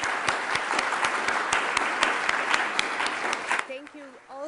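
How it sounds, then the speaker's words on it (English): An audience applauds after an invited lecture at the SDEWES 2021 conference, with steady, rhythmic clapping that fades after about three and a half seconds as a voice begins speaking. "Please join me in applauding Dr. Rogelj for this excellent presentation."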